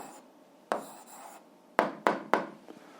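Someone writes an algebra answer by hand, giving quiet, close scratching pen strokes. A few sharper taps and scrapes come in a loose, uneven rhythm over a near-silent background.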